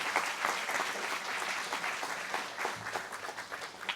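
Applause for interview guest Maria Walker rises from a live audience, a lively burst of clapping that stays close and full, fluttering slightly as it carries through to the end.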